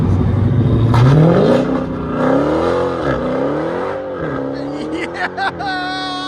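Dodge Challenger SRT Hellcat with a 6.2L V8 revs loudly up close, its engine note rising and falling in several pulls before it drives off, with brief voices near the end.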